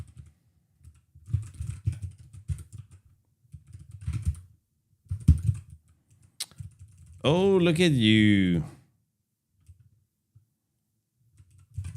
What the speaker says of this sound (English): Why is there so much typing?